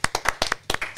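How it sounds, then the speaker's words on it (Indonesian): An audience in a sports podcast studio claps for a guest, a short burst of loud, close hand claps in a quick uneven rhythm. "Berikan tepuk tangan sekali lagi untuk Bayu Gatra."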